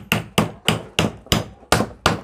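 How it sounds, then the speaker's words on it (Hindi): Seven evenly spaced hammer blows drive a new bearing into a ceiling fan motor, each a sharp close metallic tap with a short decay. No one speaks. "एक हथौड़े की मदद से इसको बैठा लेंगे।"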